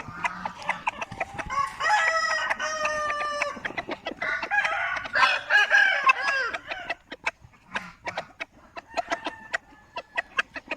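A fighting rooster of the Thai Yia breed crows loudly several times at close range, with clucking and more crowing from other birds breaking up the gaps.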